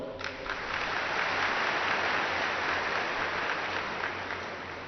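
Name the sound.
audience applause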